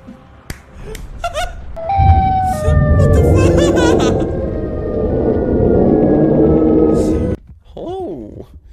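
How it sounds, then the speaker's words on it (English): A meme siren sound effect blares loudly inside a video game, a dense, sustained wailing tone lasting several seconds before cutting off abruptly, with short sound effects before it and a brief warbling tone after. "That's the siren meme!"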